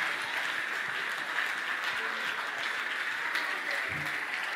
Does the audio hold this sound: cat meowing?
no